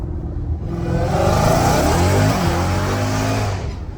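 Straight-piped 850 hp Dodge Hellcat Redeye accelerating hard with wheels slipping, a loud, close, continuous rising engine roar with whirring tire spin, no talking.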